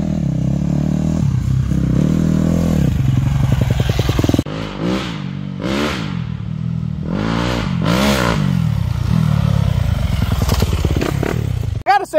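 Dirt bike engines, a KTM and a Yamaha, ridden on wooded trails, buzz and rev loudly in repeated surges throughout. Throttle rises and falls constantly, with clattering and thumps over rough ground and a brief voice near the end.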